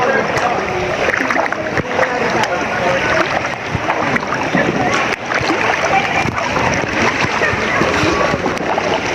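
Loud, continuous splashing and churning of clear sea water at El Nido as people go swimming, close and busy throughout, with voices talking over it.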